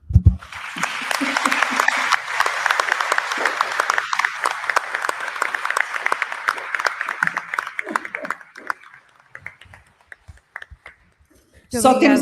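An audience applauds two guests, with a long burst of dense clapping that gradually thins into scattered claps and fades almost to silence, before a voice briefly returns at the end.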